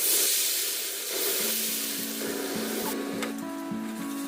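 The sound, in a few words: egg batter frying in hot oil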